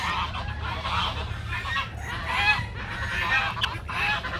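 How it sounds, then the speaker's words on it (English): Geese honk repeatedly at chickens in a farmyard mud puddle, harsh calls coming in bursts over a low background rumble, moderately loud with no talking. "The geese are telling the chickens to go away."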